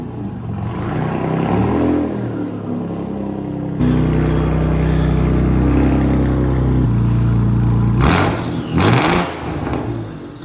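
Tuned Audi C5 Allroad engine idling and revving with a deep droning exhaust, then a couple of sharp exhaust pops and bangs bursting out near the end, close and loud.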